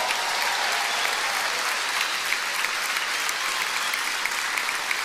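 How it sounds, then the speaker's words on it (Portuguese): A church congregation applauding in praise, a dense, steady wash of many hands clapping with no break and no speech. "Você pode aplaudir e glorificar o nome do Senhor"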